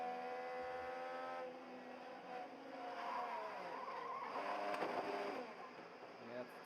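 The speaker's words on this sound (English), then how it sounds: "Let's take a look on board now from Christian's car." Onboard an IndyCar race car, the engine drones and the tires scrub and squeal under load. The sound is continuous but fairly faint, with a steady harmonic whine that shifts pitch mid-run.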